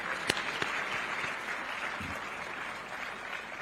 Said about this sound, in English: Can we clap for these colleagues of ours?